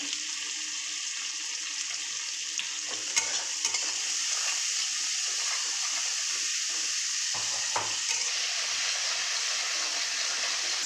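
Tomatoes with a spoon of salt frying in a pan for an egg curry, a continuous close sizzle with occasional faint clicks of a spoon.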